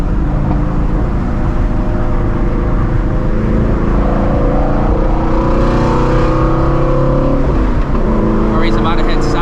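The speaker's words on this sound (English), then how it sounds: "It's because I'm actually driving it. That's why it's backfiring." A Shelby GT350 driven hard in traffic, its engine roaring loud and close as it revs and accelerates, with a burst of crackling exhaust pops late on, a voice talking over the engine.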